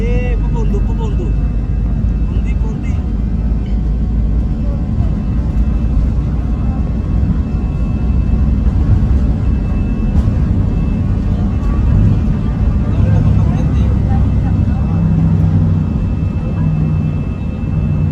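Airplane taking off, heard from inside the cabin during a mother's first flight: a steady, loud low-end engine rumble and roar fills the whole stretch, with voices talking over it.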